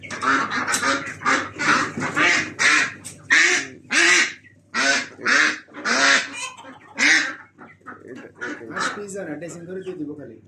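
Loud, nasal quacking and honking from several ducks close by at a poultry shop in Qatar, a dense chorus of calls with people talking among them.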